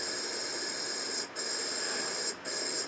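An airbrush sprays cleaner with a steady, airy hiss, briefly cutting out twice before resuming.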